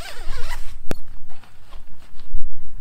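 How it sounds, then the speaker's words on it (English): A zipper on a DEERFAMY camping cot is pulled closed in a few quick, close, loud ripping strokes, followed by faint handling and shuffling noises. "this is the zipper down here, so we're just going to zip it together"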